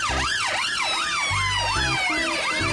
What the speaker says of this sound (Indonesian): Wah, ada mobil ambulan juga ya.